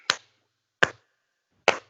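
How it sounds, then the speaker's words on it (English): Three single sharp hand claps from one person, evenly spaced and close, each a crisp isolated crack with silence between. "he is clapping"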